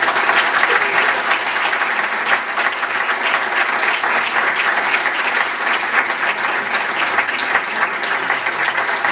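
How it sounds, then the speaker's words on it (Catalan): Sustained audience applause at a theatrical dramatization and round-table event, a dense, even wash of clapping from many hands that continues steadily throughout. "és Fefe, que m'agradaria un aplaudiment per a Fefe."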